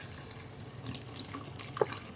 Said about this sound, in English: We're gonna empty about a liter of seltzer in there.